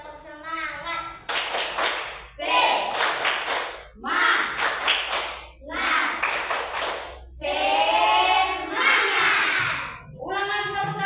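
A class of students performs a rhythmic spirit clap, with sharp bursts of group clapping in set patterns alternating with loud chanted voices in a classroom.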